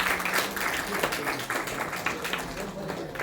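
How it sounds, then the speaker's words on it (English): Lecture audience clapping at a motivation and study-skills talk, a steady round of applause from many hands lasting about three seconds, with some voices mixed in. "Clap for that."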